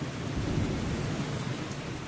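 Heavy rain in a dark storm, a loud, steady roaring wash of water with a deep rumbling undertone throughout, no voices.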